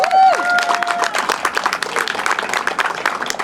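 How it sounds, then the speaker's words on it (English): Outdoor crowd clapping at a trail ribbon cutting, a brisk scatter of hands, fairly close, with a brief tone at the start. "Let's give them a round of applause."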